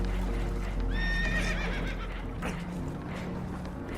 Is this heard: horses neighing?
yes